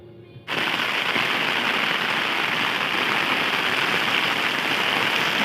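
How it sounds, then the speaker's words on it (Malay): Heavy rain pours down during a flood in Kuantan, a dense, steady roar that starts abruptly and continues loud and unbroken. "lagi hujan lebat"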